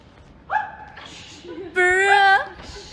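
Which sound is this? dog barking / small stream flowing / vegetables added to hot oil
dog barking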